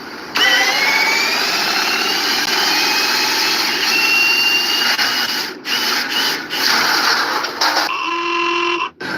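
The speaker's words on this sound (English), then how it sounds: "This customer tried fixing the engine shield noise" A running BMW engine with a noisy engine shield whines and hums steadily with rattling, then cuts out briefly in several short breaks before a tonal whir near the end.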